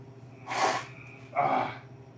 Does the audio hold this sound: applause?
no